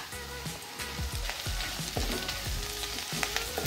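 Curry leaves fry in a pan of onion-tomato chutney with a steady, close sizzle, punctuated by repeated scraping stirs of a spoon against the pan.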